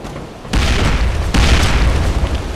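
Bomb explosions in the shooter game District 187, two loud, close booming blasts in quick succession, each followed by a sustained rumbling roar.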